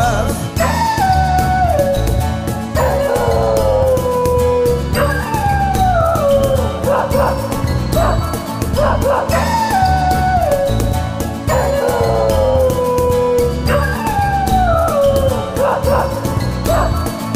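Loud Greek pop song about a little dog, with high, drawn-out howl-like cries sliding downward every few seconds over a steady, dense music track; no talking.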